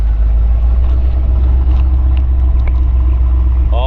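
A 1981 Corvette with the L-81 engine and factory exhaust runs steadily nearby, a deep continuous low rumble with faint background clicks.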